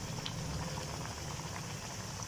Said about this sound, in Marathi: असे थोडे बुडबुडे, तेलातले बुडबुडे कमी झाले तेव्हा उलटून घेतले मी.